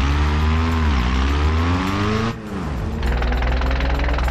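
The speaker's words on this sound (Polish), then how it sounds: "Tak brzmi zatarty silnik?" A seized car engine runs in the driving game BeamNG, giving a loud, harsh droning rumble whose pitch wavers and dips. It cuts out briefly, then comes back as a rougher, rattling roar with no talk.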